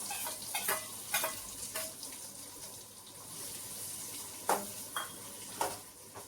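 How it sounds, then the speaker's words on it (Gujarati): Chopped onion fries in hot oil in a home kitchen and is stirred now and then, a steady soft sizzle broken by several sharp scraping clinks of the spoon against the pan, close and moderately quiet. "હવે આને થોડીક વાર આવી રીતના હલાવા રાખવાની ત્યાં સુધી થોડીક આમ"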